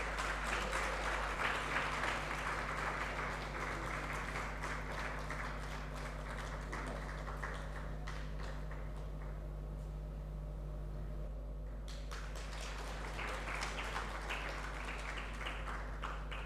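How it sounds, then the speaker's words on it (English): An audience claps in sustained, even applause, welcoming a committee onto the stage at a corporate event, the clapping steady and fairly distant with a brief dip midway before it swells again. "let's welcome them with a huge big round of applause"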